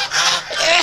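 Domestic geese honk loudly and close by in a short, harsh, continuous burst with no talking.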